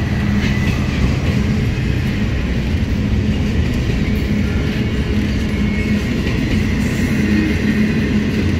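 A Norfolk Southern freight train rolls past a railroad crossing in Chattanooga, Tennessee, a loud, close, continuous rumble and roar of cars on the rails, steady throughout with no talk.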